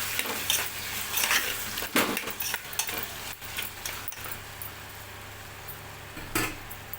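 A potato and eggplant curry seasoned with turmeric being stirred in a pot, with a soft sizzle beneath several scraping clinks of a spoon against the metal, close and otherwise quiet.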